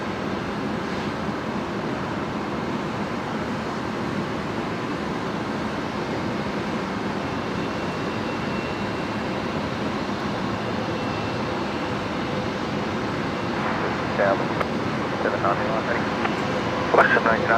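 A Boeing 777 airliner taxis out for a night departure at Brisbane Airport, its engines a steady distant roar that holds evenly throughout with faint background sounds.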